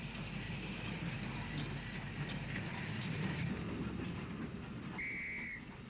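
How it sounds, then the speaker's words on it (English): A GNR mogul steam locomotive, number 104, hauls a couple of ballast wagons past Central Junction in Belfast, rumbling steadily at moderate distance, with a brief high squeal near the end. "mogul number 104 hauls a couple of wagons containing ballast past Central Junction in Belfast"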